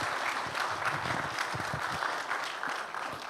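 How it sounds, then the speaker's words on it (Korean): A church congregation at a dedication and founding service gives a dense, sustained round of applause for visiting church members, many hands clapping continuously at a fairly soft, even level. "박수 한번 쳐주세요"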